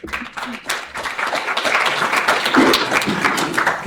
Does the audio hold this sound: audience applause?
yes